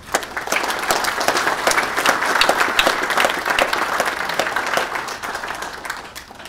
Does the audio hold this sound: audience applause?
yes